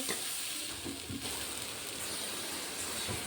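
Vegetables and lentils sautéing in a pan give a steady, close sizzle with soft scraping stirs and occasional pops, no voices.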